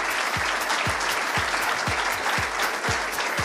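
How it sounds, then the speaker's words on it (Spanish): Steady, loud crowd applause rings out at an awards ceremony as a large group of category nominees walks in, with a regular rhythmic thump running beneath the clapping. "Un aplauso a la gente de la categoría"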